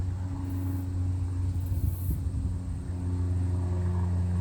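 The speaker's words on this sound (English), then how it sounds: "I do live near an airport, so it's not uncommon to hear airplanes" An airplane passes near an airport as a faint, steady, distant engine drone with a low hum throughout and no voices.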